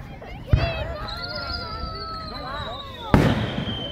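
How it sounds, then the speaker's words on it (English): Two sharp firework bangs about two and a half seconds apart, with a whistling trail rising between them and a faint murmur of people in the background. "for those of you that like fireworks, I hope you enjoy this type of stuff."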